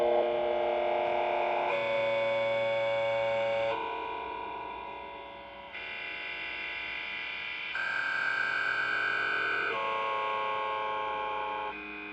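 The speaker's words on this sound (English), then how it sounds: "I just basically took the Welcome to the Math Meltdown sample and just slowed it down heavily" A heavily slowed-down "Welcome to the Math Meltdown" vocal sample drones in long, smeared, deep tones, shifting pitch in broad steps over about twelve seconds with a continuous, processed texture.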